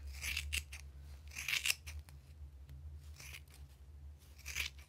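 Scissors snip through t-shirt fabric in four crisp, evenly spaced cuts, close and fairly quiet against a low background hum.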